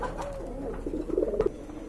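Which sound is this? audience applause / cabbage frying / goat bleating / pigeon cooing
pigeon cooing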